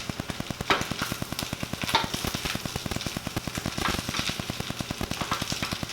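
Kimchi fried rice with a little sesame oil is stirred in a pan, giving a steady broadband sizzle with a few scraping accents under a strong, regular low pulsing hum that runs throughout.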